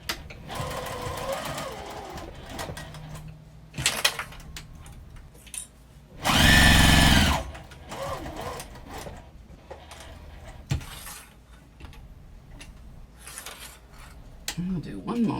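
A sewing machine stitching a short quarter-inch seam on a fabric Christmas tree, one loud steady whirring burst of about a second, with quieter handling sounds and talking around it.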